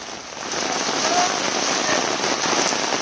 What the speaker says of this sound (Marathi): वादळी वाऱ्यासह जोरदार पाऊस अकोल्यामध्ये